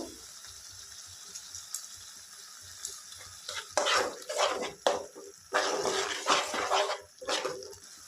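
Tomato and onion frying in a pan, with a faint sizzle at first, then loud, close bursts of stirring and scraping in an irregular rhythm from about four seconds on.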